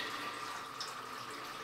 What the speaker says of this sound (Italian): il lavandino si riempie con un'acqua nuova un po' più pulita